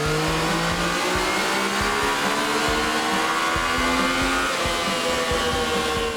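A Yamaha FZ-09 motorcycle engine revs hard on a dyno, a loud, continuous roar with steadily rising pitch through the gears, close and alone without voices.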